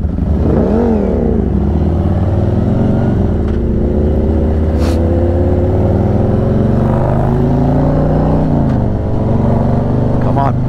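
Harley-Davidson Sportster Iron 883 motorcycle engine droning steadily with shifting revs, recorded on board while riding on an open road, loud and continuous with wind rumble.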